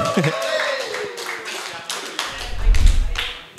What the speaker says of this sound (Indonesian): Boleh kita tepuk tangan untuk Erik.